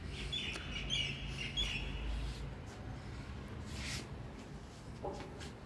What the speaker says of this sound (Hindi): ये पंछी बहते हैं जी ये।